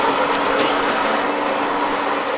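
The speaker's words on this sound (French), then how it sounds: "Je vais attendre que la cafetière elle est finie avant." A home coffee maker brewing in a kitchen in the early morning, giving off a steady, even hiss and gurgle that holds at a constant level throughout, with no voices over it.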